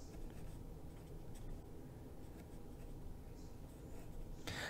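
A fountain pen fitted with a vintage Esterbrook 1555 nib writes on paper, making a faint continuous scratching with small strokes and a brief louder scrape at the end, heard alone without talk.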